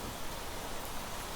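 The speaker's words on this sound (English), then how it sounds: "Now that rain is deafeningly loud." Rain in the survival video game Planet Crafter, a dense, even hiss of falling drops that holds steady and loud throughout the short stretch, with no voices.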